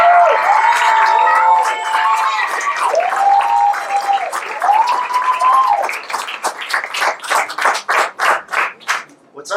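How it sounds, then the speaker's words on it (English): Applause and cheering from a comedy club audience at The Stand rise loudly over a host's voice, then thin out into scattered individual claps. "Please clap it up for Jimmy Tepedino, everybody."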